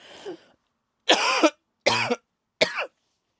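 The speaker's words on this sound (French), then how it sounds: "Excusez-moi, je tousse." Three separate harsh coughs, close and fairly loud, following a softer throaty sound, with short silences between them.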